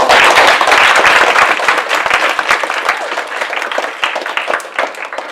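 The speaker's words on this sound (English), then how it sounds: "Let's give another round of applause for Sean." An audience at a Penn Innovation conference event gives a loud, close round of applause for a speaker, with dense clapping at first that thins gradually into scattered individual claps.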